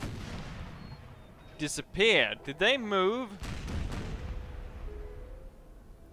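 Cannon fire booms in Napoleon Total War, a cluster of deep rumbling blasts with warbling tails in the middle of the clip, loud over a battlefield hum while someone talks.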